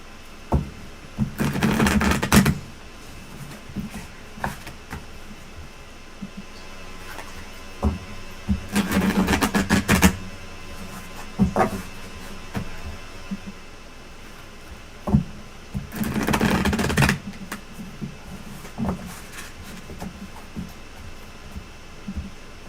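Tarot cards shuffled by hand in three separate bursts of dense riffling and crackling, with quieter card handling and soft taps between them, close up and without talk.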